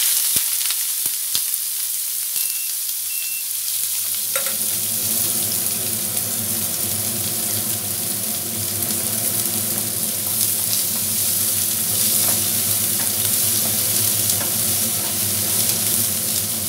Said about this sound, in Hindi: अब इसमें हम प्याज डाल देते हैं।